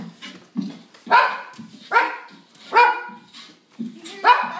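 A dog barks five times in a slow, regular pattern, close and fairly loud, with soft whimpering noises between the barks.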